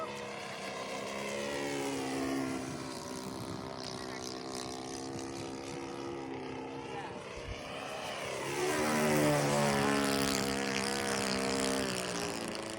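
Hanger 9 Pulse XT 60 RC airplane with a 91 engine flying overhead, a steady buzzing drone with harmonic whine that swells louder and shifts pitch as it passes closer in the latter half.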